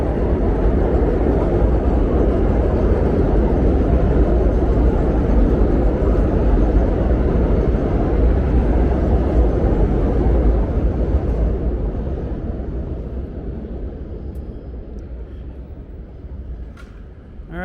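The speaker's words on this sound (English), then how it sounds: "you will hear some trains" A train passes close by in Midwood, Brooklyn with a loud, continuous rumbling roar that holds steady for several seconds and then slowly fades away.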